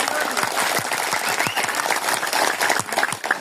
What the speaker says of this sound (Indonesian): Saya mohon rekan-rekan, tepuk tangan dulu rekan-rekan.